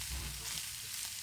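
Beef pieces coated in flour sizzle and crackle steadily in a hot pan for a stew-style pie filling, loud and close with faint stirring.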